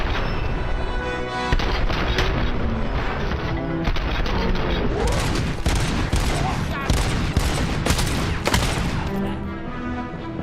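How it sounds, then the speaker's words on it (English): Sustained, dense gunfire from RoboCop: Rogue City, with rapid bursts and booming shots layered over continuous loud combat noise throughout. "He shot the hostage."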